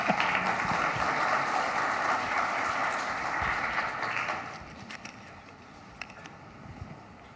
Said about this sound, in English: You can applaud, it's OK.